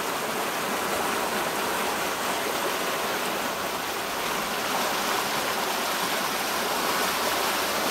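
The Suwannee River at White Springs, Florida rushes as a steady, broad wash of flowing water, constant and fairly loud with no breaks or voices.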